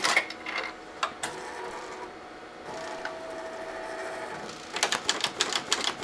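An embroidery machine stitching a flower design onto a pillowcase with a 75/11 needle, giving a steady mechanical whir broken by bursts of rapid rattling needle taps, fairly close and with no voices.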